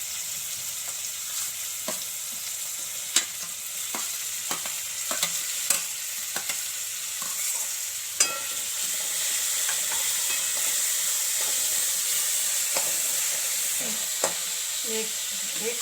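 Chopped onion and chillies fry in a pan with a steady, bright sizzle throughout, punctuated by sharp clicks and taps of a spatula stirring against the metal.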